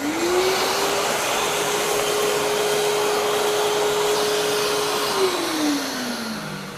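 Industrial vacuum cleaner running at high suction with a crevice tool, a loud steady whine and airy rush that holds one pitch, then drops away near the end.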